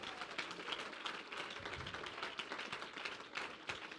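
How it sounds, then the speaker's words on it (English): Church congregation clapping hands during a sermon, a faint, continuous patter of many hands with irregular sharp claps throughout. "Oh, clap your hands to Jesus."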